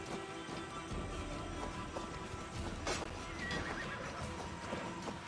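A horse in Assassin's Creed Valhalla whinnies and stamps, clip-clopping hooves and a sharp neigh set against a faint game ambience, without speech.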